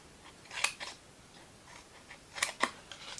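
Scissors snip through paper for a handmade explosion box, giving a few crisp, close cuts in two pairs, with quiet gaps between and no talking.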